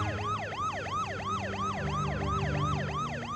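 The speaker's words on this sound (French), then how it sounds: "Hommes et ambulances se précipitent." Ambulance siren wailing in a fast, regular up-and-down sweep, loud and close, repeating about three times per second over a low vehicle rumble.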